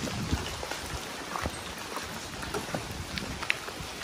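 Steady rain falls in cold, foggy weather over a hillside farm, a dense, even hiss with scattered drips and taps on nearby surfaces and no voices.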